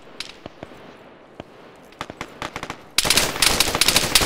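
Gunfire in the video game Arma 3 during forest fighting, with scattered single shots and short bursts that build into a dense, loud stretch of rapid automatic fire in the final second.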